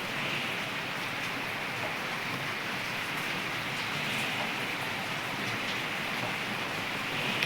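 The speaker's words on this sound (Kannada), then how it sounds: "ಚೆನ್ನಾಗಿ ಬರ್ತಾಯಿದೆ ಮಳೆ ಮಾತ್ರ." Steady rain falls on a rural farm, heavy and continuous as an even hiss throughout, with no talk.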